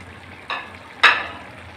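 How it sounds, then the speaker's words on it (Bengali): A pot of bottle gourd curry simmers at a boil with a soft steady hiss. Thinly sliced eggs go in, making two brief splashy sizzles close by, the second louder. "লাউটা ভালো করে বলক চলে আসছে।"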